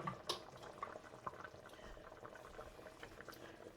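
Oxtail stew with water boiling down to gravy in a pot gives off faint, soft bubbling and popping, a low simmer with scattered small pops.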